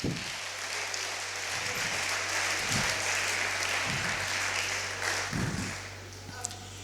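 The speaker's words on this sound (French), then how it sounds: "Est-ce qu'on peut applaudir le Seigneur pour ça?" A church congregation applauds during a sermon, a moderate sustained patter of clapping with a steady low hum underneath and occasional low thumps.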